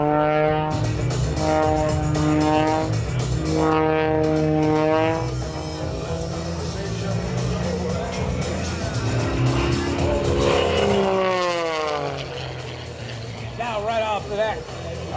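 An aerobatic airplane's engine drones and shifts pitch as it climbs and spins during an air show routine, a loud steady tone rising and falling under an announcer's commentary.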